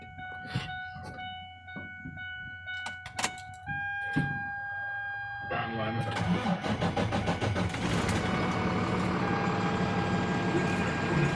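A 6.7 Cummins diesel engine with an intermittent shut-off fault and a big oil leak starts. Scattered clicks and chimes come first, then the engine catches and settles into a loud, steady idle.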